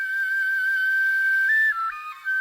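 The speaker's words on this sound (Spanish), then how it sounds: "El suberotarra Michel Echecopart ha creado una réplica exacta de las flautas prehistóricas encontradas en Istúriz, realizadas con los huesos largos de las patas de buitres y quebrantahuesos del Pirineo." Replica prehistoric bone flute from Isturitz, made from the long leg bones of vultures and bearded vultures of the Pyrenees, playing a clear, breathy, whistle-like sustained tone that shifts pitch in a few short steps near the end, heard alone.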